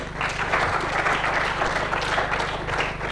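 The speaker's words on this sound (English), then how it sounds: "Round of applause, guys" An awards event audience gives a round of applause, a dense, continuous patter of many hands clapping at moderate loudness, filling the room throughout with no talk over it.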